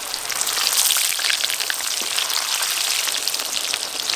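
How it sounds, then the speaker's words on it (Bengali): Potatoes for chicken biryani fry in hot oil, giving a steady, dense crackling sizzle that stays close and even throughout, with no voices. "ওই তেলে আমি বিরিয়ানির আলু ভেজে নেব।"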